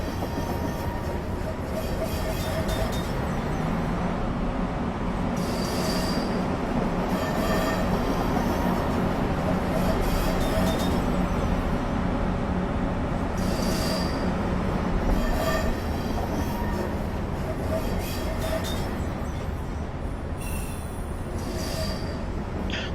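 A CSX Genset diesel locomotive hauling loaded wagons through a rail yard in Train Simulator 2015, with a steady engine drone, continuous wheel rumble and recurring high squeals of wheels on track.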